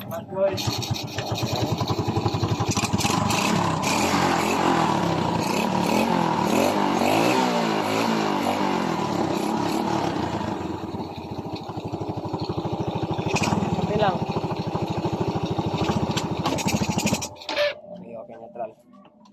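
A carbureted Yamaha Vega 115 motorcycle engine runs loudly and steadily up close, with a brief voice over it, then cuts out abruptly near the end as the gear change pedal is pressed and the engine dies.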